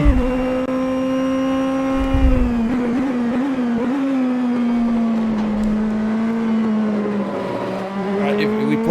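A Nissan race car in Assetto Corsa runs hard at the track, its engine a loud, sustained tone that drops and climbs through braking for a tight chicane, with a voice talking over it.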